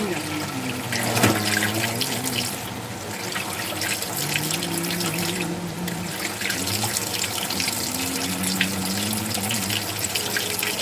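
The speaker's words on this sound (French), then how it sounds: "pendant que je fais la vaisselle." Dishes are being washed in a kitchen sink under a running tap: a continuous splashing gush of water with a faint pipe-like hum and an occasional knock or clink.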